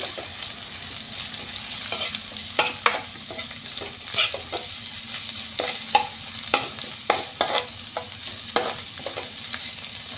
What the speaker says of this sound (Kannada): ಬೆಳ್ಳುಳ್ಳಿ ಹಸಿಮೆಣಸು ಹಾಕಿ ಚೆನ್ನಾಗಿ ಮಿಕ್ಸ್ ಮಾಡ್ಕೊಳ್ಳಿ